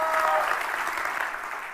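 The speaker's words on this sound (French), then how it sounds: "Que tous ceux qui le croient applaudissent le roi des rois." A church congregation breaks into warm applause during a French sermon, a dense burst of clapping from many hands that slowly thins out. A voice briefly overlaps the start.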